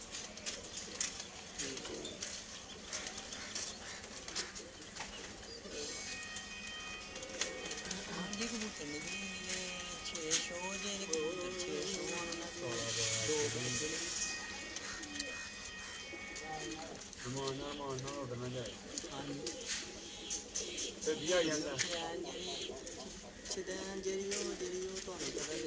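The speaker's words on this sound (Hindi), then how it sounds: "ये सोहेब भाई कबूतर को पकड़ने लगे हैं अभी" Pigeons coo in Sialkot while a man catches one during a pigeon-flying session; soft repeated coos and scattered fluttering sit under almost continuous nearby talk.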